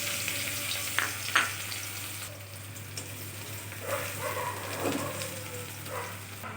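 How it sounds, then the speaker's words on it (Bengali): Whole cumin, cardamom, cinnamon and chopped onion sizzle in hot oil left from frying fish, a steady frying hiss with occasional sharp pops and stirring scrapes, close and fairly soft, no voices. "ওই তেলে আমি ফোড়ন দিয়ে দিচ্ছি।"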